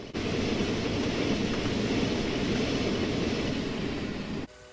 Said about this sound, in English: a regular old non-express passenger train pulls through